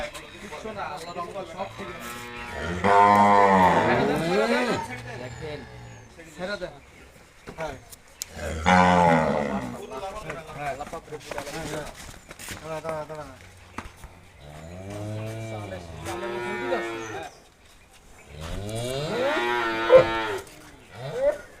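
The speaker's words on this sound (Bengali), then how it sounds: "বাংলাদেশের সবচেয়ে বড় গরু দেখতে পাচ্ছেন, বের করা হচ্ছে দেখতে পাচ্ছেন।" A very large bull weighing about 1.5 tonnes lets out several long, deep moos at intervals at a cattle market, close and loud, while people talk and shout in the background.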